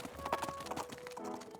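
Horses galloping, a quick faint run of hoof clip-clops with a thin musical tone underneath, distant and soft, without speech.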